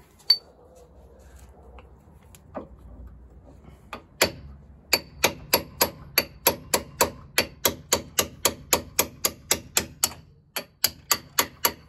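A hammer with an extension strikes metal in a steady run of sharp, ringing blows while freeing ball joints on a car's driveshaft, a few scattered hits first, then a quick regular series of about twenty close, loud impacts.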